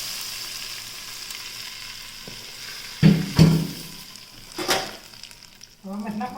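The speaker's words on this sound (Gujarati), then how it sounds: "રાઈનો વઘાર આમાં રેડી દીધો છે" Hot mustard-seed tempering is poured into handvo batter, giving a soft sizzle and a few sharp bursts of hissing over a quiet kitchen background, with a brief faint voice near the end.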